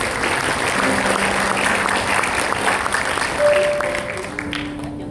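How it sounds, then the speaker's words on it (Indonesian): A church audience at a Christmas sermon gives half-hearted applause: a thin, steady patter of clapping that runs on evenly and tapers near the end. "Tepuk tangannya setengah-setengah."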